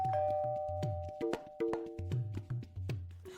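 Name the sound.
doorbell ringing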